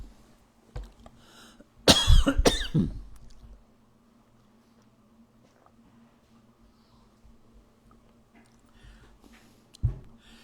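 A short burst of a couple of harsh coughs, fairly close, with a faint throat sound later against a quiet, humming background.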